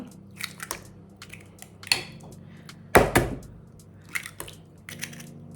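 Two eggs cracked into a bowl for milk pancake batter, heard as a few close, sharp taps and cracks with wet drips and one louder crack partway through.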